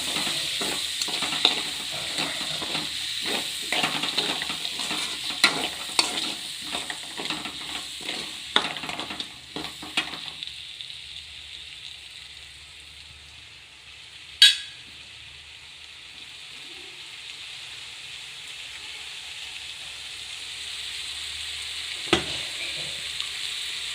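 Tomatoes frying in a pan for potato curry, a soft sizzle with a run of close spoon-and-pan stirring scrapes that stop partway, leaving a quiet hiss broken by an occasional sharp clink.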